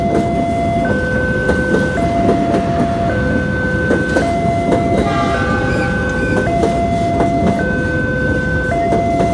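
KA Malabar passenger train running from Malang toward Bandung, passing a level crossing with a steady loud rumble of wheels and cars throughout, while an alternating two-tone crossing bell rings continuously over it.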